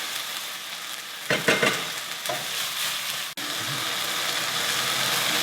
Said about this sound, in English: reduce that down a bit. Boil the alcohol off.